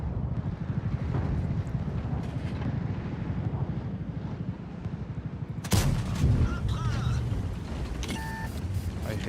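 Tank gunfire in the World of Tanks video game, a dense low rumble of battle with a loud blast about midway, followed by bright in-game effect tones, while someone talks throughout.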